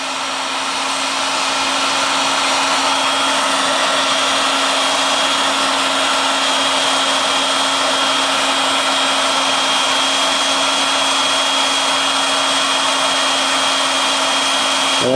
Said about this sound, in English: And all I'll do is heat the board. So I'm just applying heat.